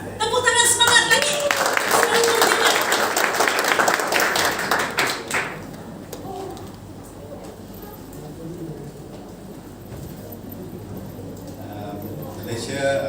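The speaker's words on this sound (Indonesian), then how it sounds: "Tepuk tangan semangat lagi." An audience at an Independence Day worship celebration bursts into loud, dense clapping for about five seconds. The applause then dies away and a voice keeps talking over a quieter room.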